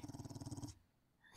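A dog in the 7 Days to Die video game lets out a short, pulsing growl lasting under a second, fairly close and alone, then fades to quiet.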